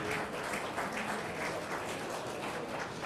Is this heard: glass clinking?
no